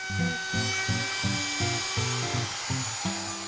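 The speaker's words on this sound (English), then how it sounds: "I use a router with a roundover bit to machine a 3/8-inch radius around the edge" A router with a roundover bit whines steadily while cutting a 3/8-inch radius on a wooden tabletop edge in repeated rhythmic passes, each stroke bringing a chattering, grinding tone, close and loud.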